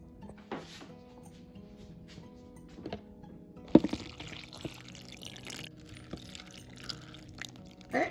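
Half a cup of water poured into a small amount of broth for a vegan holiday roast, a brief near splash and trickle among light kitchen clatter, with a sharp knock midway.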